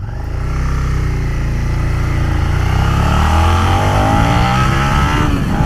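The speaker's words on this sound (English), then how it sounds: "And there's no lack of go when you wind her up." A 2018 Suzuki SV650 motorcycle accelerates hard, its engine note climbing steadily in pitch as the revs wind up. It is loud, close and continuous, with no talk over it.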